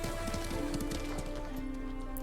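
A horse gallops through Ghost of Tsushima with a steady clatter of hooves, set against dense game music and ambience.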